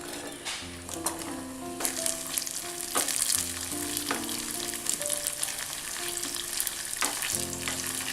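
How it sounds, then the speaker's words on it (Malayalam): Coconut pieces fry in coconut oil for a Kerala-style breadfruit masala curry, giving a continuous crackling sizzle with occasional clinks of stirring, moderately loud and close, with no voices. "അതിലേക്ക് വെളിച്ചെണ്ണ ഒഴിക്കാം. നമുക്ക് തേങ്ങാക്കൊത്ത് ഒന്ന് വറുത്തെടുക്കാം."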